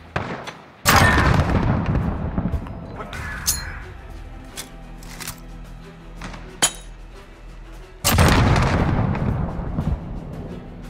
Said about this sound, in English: the grenade will land right in front of their face and it'll airburst right on them